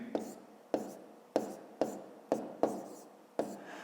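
Pen or pencil strokes on paper while working a fifth-grade arithmetic exercise, heard as seven short, distinct taps and scratches at a fairly even pace, close by and quiet, with no talking.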